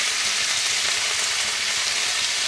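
Spices with turmeric and salt stirred as they fry in a pan, a steady close sizzle with soft scraping running throughout, no voices.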